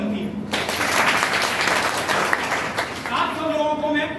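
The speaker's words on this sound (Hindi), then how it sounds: "इस मौके पर तालियां तो बनती हैं।" Audience clapping at a student theatre festival gathering, bursting in after a brief voice and holding steady for a couple of seconds before a speaking voice returns over the tail end.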